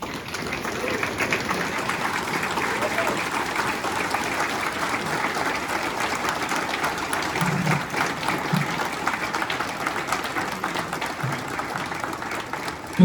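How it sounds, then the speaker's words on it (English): A standing audience at a Hmong American 50th anniversary celebration gives long, unbroken applause that stays at an even, fairly loud level, with a faint low hum beneath it. "a round of applause."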